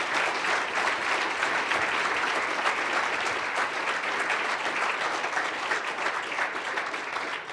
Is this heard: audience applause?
yes